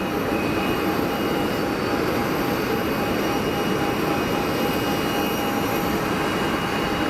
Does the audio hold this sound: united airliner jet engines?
yes